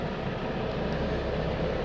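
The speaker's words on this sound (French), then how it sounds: "il y a un hélico qui part de l'hôpital" Helicopter lifting off from a hospital, heard as a low, continuous rumbling drone that stays fairly even and moderately distant for the short stretch.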